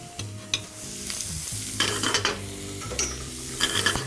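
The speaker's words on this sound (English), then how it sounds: "I'm gonna saute the mushrooms before I add the peas" Morel mushrooms sautéing in butter in a pan, with a steady sizzle under repeated stirring and a few scrapes and clinks of utensil against pan, close and moderately loud throughout.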